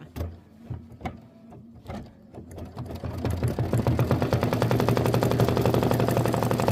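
A sewing machine stitches backward on a quilt block, with a few scattered taps and clicks at first, then a steady rapid chatter of stitches that builds and holds at full speed.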